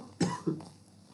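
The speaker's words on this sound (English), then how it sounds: "I'm gonna do a cough." A single person coughs twice in quick succession, close and fairly faint, then quiet room tone.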